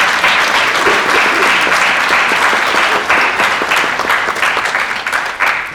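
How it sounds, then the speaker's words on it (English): Sustained applause from a school choir audience at a member recognition event, steady dense clapping filling the room throughout, loud and continuous with a slight fade near the end. "So let's give her a round of applause."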